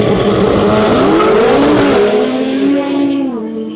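Drag racing cars launch hard on the Rustavi track during a Georgian Drag Racing Series 2025 event, with a loud, close engine roar climbing in pitch for several seconds before easing off slightly at the end.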